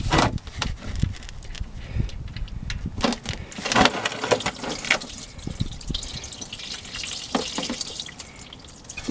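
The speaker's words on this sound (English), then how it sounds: "Car does have to be up to normal operating temperature to drain this effectively, so go ahead and get our drain pan ready." Warm transmission fluid drains from a 2012 Honda Pilot 4WD into a drain pan, a steady quiet trickling and splashing with irregular drips and faint clatter throughout.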